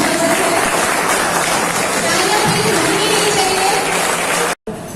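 A dense, roaring wash of applause from a large audience at an RCM program greeting leader Surya Prakash Kushwaha onto the stage. It is loud and continuous, with faint voices underneath, and it cuts out briefly just before the end.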